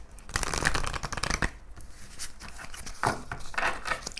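Tarot cards are shuffled by hand for a weekly reading, a quick close-up run of papery riffles and soft slaps in a few uneven bursts at low volume.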